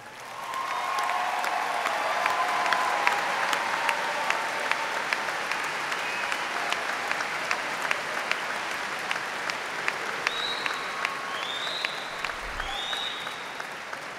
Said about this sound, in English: let's recognize with a hearty round of applause Eastern Kentucky University's newest